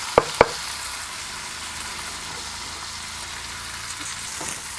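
Chopped tomatoes sauté in a pan for a stuffed tomato dish, giving an even, close sizzle that runs unbroken. Two sharp utensil knocks sound near the start and a softer clink comes toward the end.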